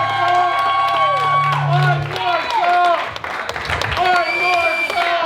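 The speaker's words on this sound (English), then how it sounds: "I want to hear one more huge round of applause for your newlyweds, Chris and Margaret Miller." Wedding guests clap and cheer for the newlyweds in a loud, dense round of applause with whoops, while music and a voice carry over the crowd.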